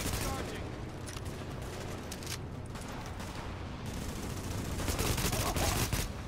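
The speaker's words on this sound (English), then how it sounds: "I'm shooting it" Sustained gunfire in The Division on PS4, rapid bursts of shots crackling almost without pause over several seconds, with a player's voice talking underneath the shooting.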